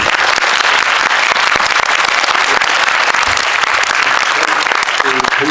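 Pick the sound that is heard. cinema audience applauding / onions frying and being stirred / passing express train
cinema audience applauding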